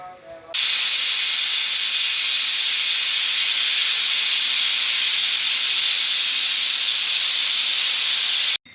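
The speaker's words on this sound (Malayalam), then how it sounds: "ഞങ്ങളുടെ കുക്കർ ഇത് വെച്ച് നോക്കുമ്പോൾ ഒരു അഞ്ചെട്ട് വിസിൽ വരണം" A pressure cooker cooking beef curry lets out a loud, continuous hiss of steam that starts abruptly and cuts off after about eight seconds.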